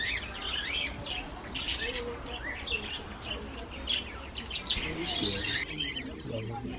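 Conure parrots call amid a busy aviary at a bird park, sharp high squawks and chirps repeating in irregular bursts over a murmur of background voices and other birds.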